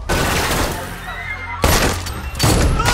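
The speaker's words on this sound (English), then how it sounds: "Shooting the place up!" Gunfire erupts during a movie fight scene, loud bursts of shots and crashing impacts in two clusters, mixed with dense action-film sound.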